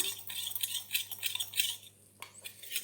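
Homemade dry shampoo powder stirred with a utensil in a small container, a quick run of light scraping and clinking strokes, fairly close and soft, with a brief pause before it resumes.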